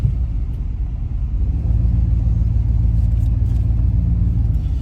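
A car drives along toward a gas station, its interior filled with a loud, steady low engine and road rumble that deepens slightly after the first second or so.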